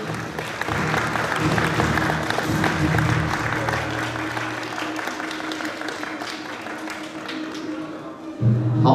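An audience at a charity pageant final claps in a steady patter of applause mixed with thumps and crowd murmur, fading before a louder thud at the end.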